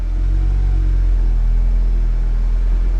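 A cold-started VW Mk7.5 Golf R, fitted with a CTS dogbone mount insert, idles in reverse at around 850–900 RPM, a steady, close, continuous low rumble with no other sounds.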